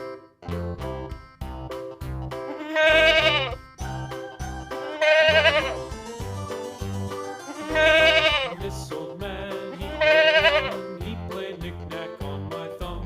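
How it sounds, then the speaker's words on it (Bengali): A young goat kid bleats in four loud, drawn-out calls at regular intervals, set over a bouncy children's alphabet tune. "ছয়ে ছাগল ছানা লাফিয়ে চলে"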